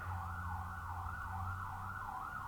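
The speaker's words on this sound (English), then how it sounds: "Those are really loud. That's like 5 fucking police cars." Several police car sirens wail continuously with a rising and falling tone, loud and sustained over low traffic rumble, with no talking.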